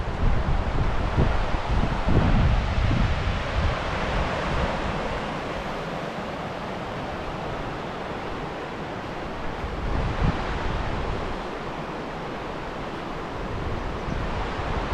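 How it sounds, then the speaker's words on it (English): A fast river rushes through a high, narrow gorge in Romania, a steady, full roar of broadband water noise lasting throughout, fairly close, with wind buffeting the microphone and no voices. "Because it's high and narrow, the river running through it is going very fast."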